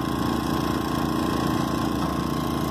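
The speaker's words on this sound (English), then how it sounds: "That's the Coleman Powermate" A Coleman Powermate 2,000-watt gas portable generator runs nearby with a steady, even mechanical drone and a slight rhythmic knock, continuous and unchanging with no voices.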